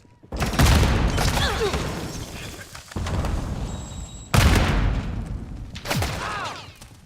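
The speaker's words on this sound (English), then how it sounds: "Multiple shooters. Throwing Semtex." Video-game firefight with several shooters and thrown Semtex charges: bursts of rapid gunfire and loud booming blasts in repeated waves, close and heavy, with occasional whizzing shots and no speech.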